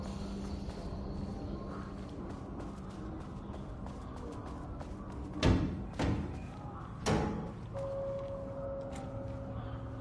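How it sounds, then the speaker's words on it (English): A flashbang grenade in the Alan Wake 2 video game detonates with a loud broadband burst, followed by a second sharp blast a moment later, over a steady game ambience with a low hum. "Flashbang."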